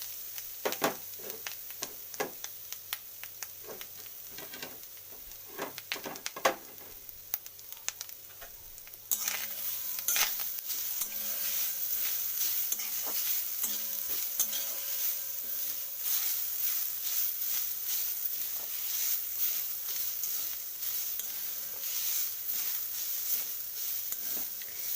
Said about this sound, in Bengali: তো প্রথমে আমি হালকা করে ভেজে নেব।